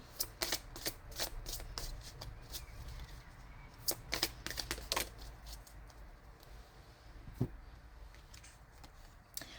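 A deck of colour oracle cards is shuffled by hand, making quick crisp riffling snaps in irregular bursts, close and fairly quiet.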